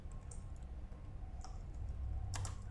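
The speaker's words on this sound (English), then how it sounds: "And now we can type text here." A computer keyboard being typed on, a few soft scattered key clicks with a quick cluster near the end over a low hum of room noise, faint and close, no talking.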